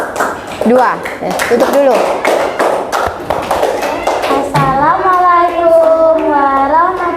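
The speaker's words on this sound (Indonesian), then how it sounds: "Tepuk tangan dulu untuk kelompok" Students in a classroom clap for group 2 in a burst of sharp, scattered hand claps mixed with children's voices, before a teacher's voice takes over.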